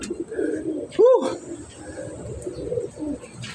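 A pigeon gives a short, close coo amid soft background murmuring and rustling.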